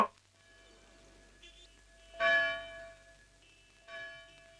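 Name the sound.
church bell ringing over phone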